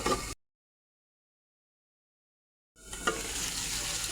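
Onion petals fry in spice masala in a pan for a fish curry, giving a short burst of sizzling, then a silent gap before a steadier sizzle with a stir returns.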